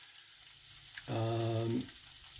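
Parmesan cheese frying and bubbling in a pan on a gas stove, a steady close sizzle with a brief tonal hiss swelling in the middle, no voices.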